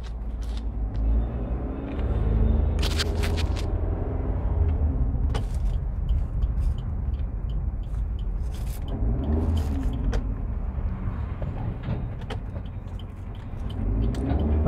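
A car driving on a highway at night in second gear, heard from inside: a low, steady engine rumble with scattered creaks and clicks from the cabin.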